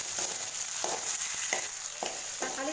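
Tomatoes fry with ginger and garlic in a pan for a vegetable kurma, giving a steady close sizzle broken by a few soft scraping stirs, with no voices.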